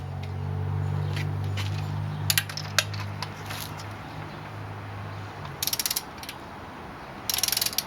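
Torque wrench ratcheting on a spark plug in a 2005 VW Passat 1.8T engine, with quick clicking bursts near the start and two short rapid ratchet runs later over a steady low hum.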